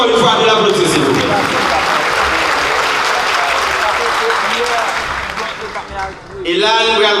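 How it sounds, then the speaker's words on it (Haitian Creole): An audience at a Haitian political party rally applauds steadily and loudly, the clapping thinning briefly near the end before swelling again as a voice comes in over it. "Je vous demande encore une fois de l'applaudir, s'il vous plaît."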